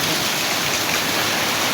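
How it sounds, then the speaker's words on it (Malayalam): Heavy rain driven by wind over open paddy fields, a loud, unbroken hiss of downpour with no other sounds. "ഞങ്ങളുടെ അവിടെ കാറ്റും മഴ അല്ലേ എന്താ മഴ അടിപൊളി മഴ"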